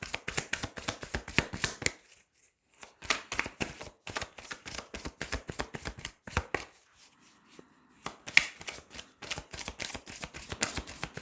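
Tarot cards are shuffled in quick, crisp riffling bursts, with short pauses between rounds and a few softer taps as cards are drawn and laid down, close and clear with no talk.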